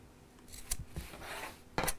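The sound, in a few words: scissors snipping across fabric corners of purse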